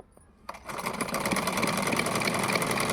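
A sewing machine runs steadily, basting a folded fabric edge on a layer-cut frock, starting after a brief click and settling into a continuous close, even mechanical whir with no talking.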